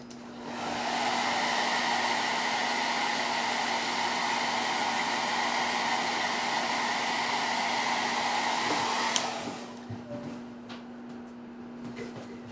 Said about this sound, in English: I actually am gonna hit it with a blow dryer real quick.